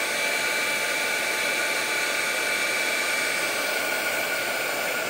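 An embossing heat tool warms embossing powder on enamel-look craft butterflies, giving a constant close-up airy whir with a faint steady tone that holds unchanged throughout.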